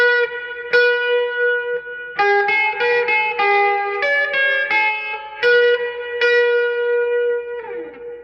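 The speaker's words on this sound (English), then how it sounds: "The reverb's pretty nice on this too. It's got like a little reverb tank in the back. I'll crank the reverb so you can hear it." An electric guitar with a hand-wound Jimi Hendrix pickup plays through a Seymour Duncan convertible amp with its spring reverb tank cranked: clean, bright single notes and chords ring out loud and close, each trailing into a reverb tail, ending with a descending slide.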